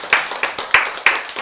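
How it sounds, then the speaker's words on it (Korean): Audience clapping at a Korean health lecture, a handful of sharp, distinct hand claps in a loose irregular rhythm, close and crisp with small room reverberation, no voices over them. "박수 치세요"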